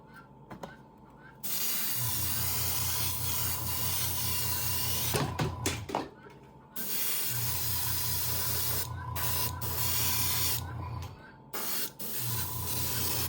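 A small air compressor runs with a low steady hum beneath loud continuous spray hiss from painting a fishing lure, cutting out briefly and restarting several times.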